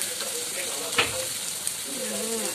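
Potatoes cooking in a pan over a wood fire, a soft continuous sizzle with a single sharp crackle near the start and faint tonal sounds drifting underneath.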